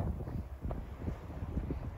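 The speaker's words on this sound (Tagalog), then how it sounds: "Snowstorm, oh. Ang lakas ng hangin." Strong wind in a snowstorm buffets the microphone in low rumbling gusts, loud and continuous with no other sounds.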